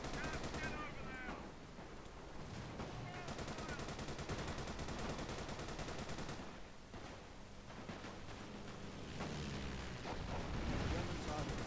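A First World War gun fires at a German target in a dense, roaring barrage of shots and blasts that runs throughout, with voices mixed into the din.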